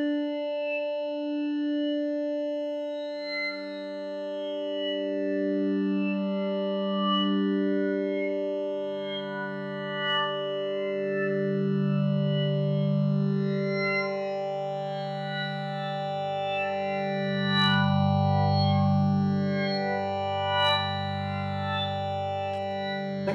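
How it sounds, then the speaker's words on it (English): Synthesizer patch from a Minifreak versus Hydrasynth sound-design match, played through a phaser: sustained chords with sweeping notches gliding up and down, steady and fairly loud, with no talking. "I think I might go for a phaser."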